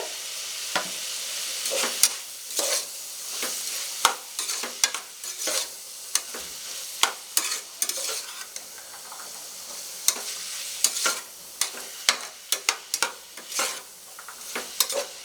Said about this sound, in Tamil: காய் எல்லாமே பார்த்தீங்கன்னா ஒரு 5 நிமிஷத்துக்கு நல்லா நம்ம வதக்கி விட்டுருக்கோம்.